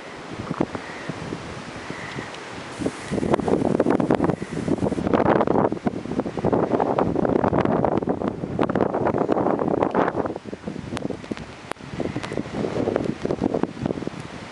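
Gusting wind during a January snow blizzard, a broad rushing roar that swells and eases in long waves, buffeting close outdoors with no talk.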